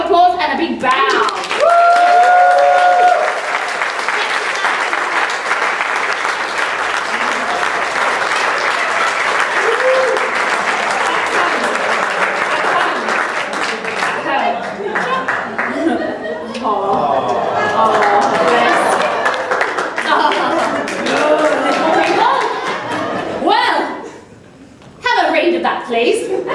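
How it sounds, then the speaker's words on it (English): A cabaret show audience gives sustained, dense applause for about twenty seconds. A performer's voice carries over it, and the clapping briefly dips before picking up again. "let's give you a big round of applause and a big bow."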